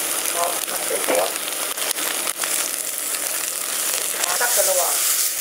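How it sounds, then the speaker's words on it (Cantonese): Rice rolls and tri-colour peppers stir-fry in a hot wok for soy sauce chow fun, making a loud continuous sizzle with brief scraping stirs. "呢個三色椒落去啦。"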